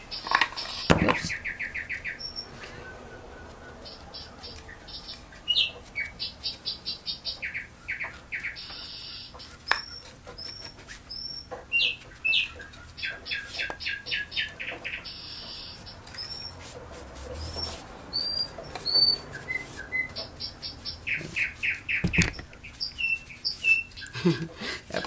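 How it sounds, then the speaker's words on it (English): A small bird chirps and calls excitedly in rapid bursts of high tweets and trills, fairly close indoors, with occasional faint handling noises and no speech. "That bird's going crazy."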